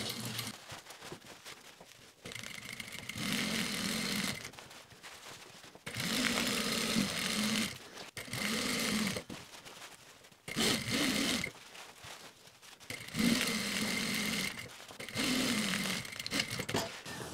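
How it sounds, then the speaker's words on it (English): A sewing machine stitches lightweight summer shorts fabric in several bursts of rapid, whirring mechanical chatter separated by short pauses, close and moderately loud. "and we're just gonna sew around it."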